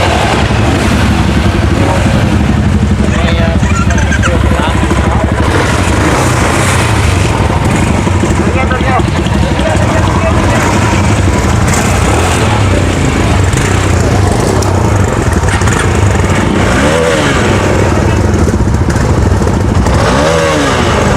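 Many motorbikes rev and idle loudly and close together at the flag-off of an anti-dengue awareness bike rally, a steady dense engine roar that runs the whole time with crowd noise and talk mixed in.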